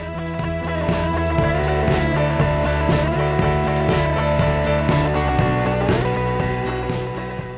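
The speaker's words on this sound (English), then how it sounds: "just use that same 10mm wrench and a 5mm Allen key to torque it down" A 10mm wrench ratcheting down bolts on a Dart Classic fly screen fitted to a Ducati Scrambler Desert Sled, steady repeated metallic clicks close up over a humming, tonal background.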